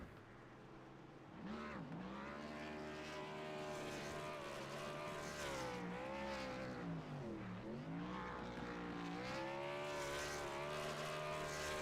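A race car in the iRacing sim, an Xfinity-series stock car, revs hard through burnouts on the grass, its engine note surging and dipping in repeated sweeps, loud and continuous, under a commentator's voice.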